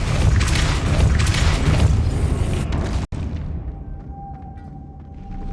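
Depulso spell blast in Hogwarts Legacy, a heavy booming rush that holds for a few seconds and then cuts off abruptly, leaving a quieter hum with a faint tone.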